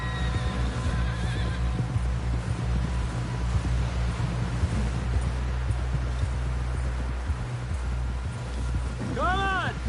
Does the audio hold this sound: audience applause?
no